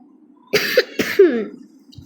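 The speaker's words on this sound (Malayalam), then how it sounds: "എന്താ ചുമയാണ്. ഈ ചുമ എന്താ മാറാ?" Two sharp, close coughs in quick succession, then a brief raspy follow-through, with faint room noise around them.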